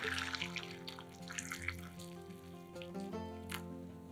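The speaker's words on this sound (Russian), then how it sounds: "Все заливаем кипятком." Boiling water poured from a kettle into a bowl over eggs and beets with salt and vinegar, a steady close splashing stream running throughout with gentle gurgling.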